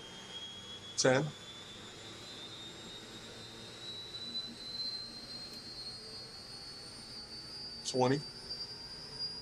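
An Army helicopter turbine engine starts up with the rotor spinning, a steady high whine slowly climbing in pitch over a low rumble, while a man counts aloud twice over it.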